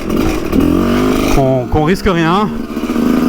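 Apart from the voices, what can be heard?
Sherco 125 two-stroke motorcycle engine at full throttle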